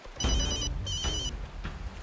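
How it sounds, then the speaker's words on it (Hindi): A telephone rings in two electronic bursts followed by a fainter third, a steady repeated trill heard alone and fairly close. "ये फोन पोपटलाल के पास लेके जाओ"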